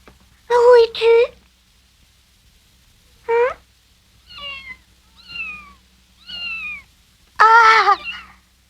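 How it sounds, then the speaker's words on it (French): A cat in the animated series Heidi meows repeatedly, with two quick cries, a pause, a single meow, a run of softer mews, and a final loud, drawn-out call, all close and clear. "Allez vite vous occuper du chat."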